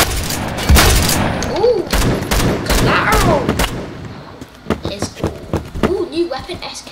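SKS semi-automatic rifle fire in Phantom Forces, a string of sharp, loud single shots at uneven intervals with other distant gunfire mixed in, heard under someone talking.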